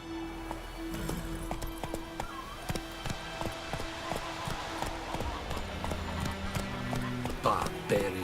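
Hoofbeats of a horse named Roach running in The Witcher 3 video game, a steady rhythmic clip-clop under game music and ambience, with a voice speaking over it.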